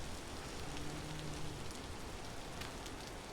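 Rain in the survival game Vintage Story, falling as a soft, even patter that stays constant and faint throughout, with a few brief brighter ticks of drops.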